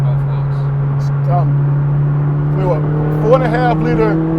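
Ferrari 458 Speciale with a 4.5 liter V8 running in F1 paddle-shift mode, a steady low engine drone from inside the car, with people talking over it.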